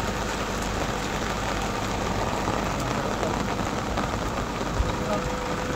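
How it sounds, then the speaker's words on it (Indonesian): Heavy downpour on a road in South Aceh, Indonesia, a steady dense hiss of rain with a low engine rumble underneath, continuous and evenly loud throughout. "saat ini masih hujan ya guys, hujan deras sekali guys"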